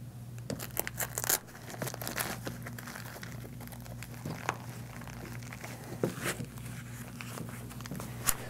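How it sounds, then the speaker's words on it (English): Bead probes and a refrigerant tank adapter for a SmarTech digital manifold being tucked into a case pouch, giving close crinkling, rustling handling noises in irregular bursts over a steady low hum, with no talking. "We'll go ahead and put our bead probes back into the pouch, along with our refrigerant tank adapter."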